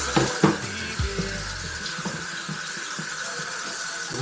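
Noodles rinsed briefly under a running kitchen tap, with water splashing and a few clanks of a pot or dish near the start, then a steady softer flow.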